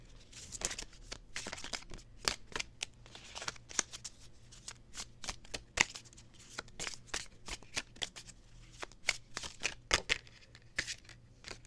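Tarot cards are shuffled by hand in quick, crisp riffles and slaps, a close and steady run of papery bursts continuing throughout without pause.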